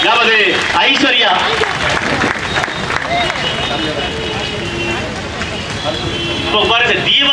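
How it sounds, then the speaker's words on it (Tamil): Audience applause for a winner at a Pongal car prize draw held by a Dharmapuri silk store, a continuous dense wash of clapping and crowd noise under loud amplified talk. "இவருக்கு தாருங்கள் கைத்தட்டலை"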